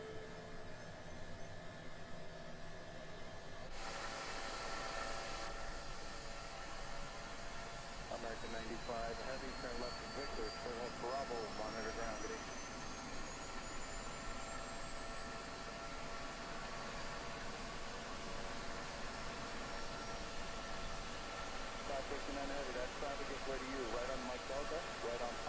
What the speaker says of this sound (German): wir starten Engine Nummer 2